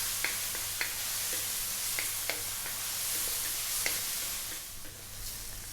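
Vegetables with optional fresh red chilies sauté in a pan for a Filipino chicken mushroom fried rice, giving a steady bright sizzle with scattered crackles and occasional light stirring clicks throughout.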